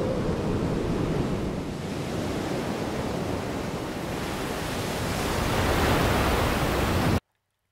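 Rough ocean waves in the Lost Odyssey video game, a loud continuous wash of surf that swells toward the end and then cuts off abruptly.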